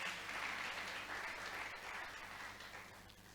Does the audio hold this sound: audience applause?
yes